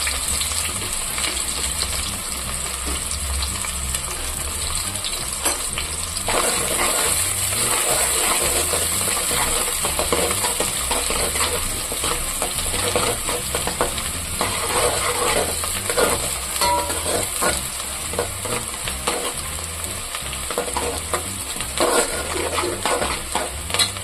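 Onions frying in a pan for egg biryani: a continuous loud crackling sizzle with occasional stirring scrapes and clatter, steady throughout and close by.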